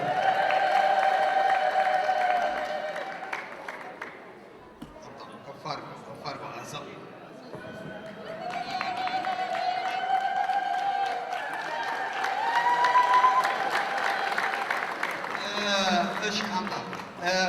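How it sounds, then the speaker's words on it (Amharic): A celebrating crowd at a church gift ceremony breaks into loud, sustained ululation and cheering, high trilling voices layered over clapping and chatter that swell and fade and keep going for the whole stretch. "እልል ብላችሁ ተቀበሉልን ሁላችሁ"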